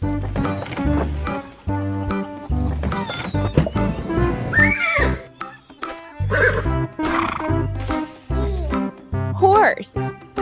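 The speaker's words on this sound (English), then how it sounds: "Horse." A horse neighs and whinnies several times over lively backing music on a farm, the calls rising and falling in loud bursts with some faint hoof clip-clop.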